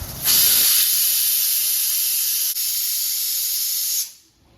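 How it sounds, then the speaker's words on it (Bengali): Surmai fish frying in hot mustard oil on a tawa: a loud, steady sizzling hiss starts abruptly, runs evenly for several seconds and then cuts off, with no talking. "এরপর আমি এখানে তাওয়াতে সর্ষের তেল গরম করতে দিয়ে মাছগুলোকে এক এক করে ভেজে নেব।"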